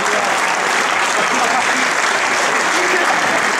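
An audience applauds the winning U13 youth team at a tournament prize-giving, with loud, dense clapping sustained evenly throughout and no pauses.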